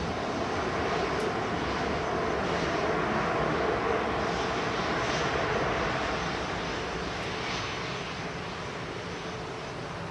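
An airliner comes in to land at Manchester Airport, a steady broadband engine roar holding loud and close for the whole stretch before easing off slightly toward the end.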